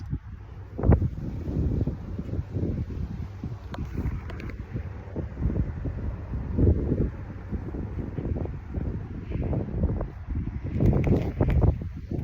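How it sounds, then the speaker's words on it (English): Breezy outdoor wind at a park buffets the microphone in continuous low rumbling gusts, with a few louder bursts and some rustling, no voices over it. "Right now it's breezy today."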